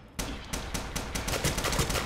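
Tommy gun firing in the horror video game Bendy and the Ink Machine, a loud run of rapid shots that speeds up into near-continuous bursts, close and without talk.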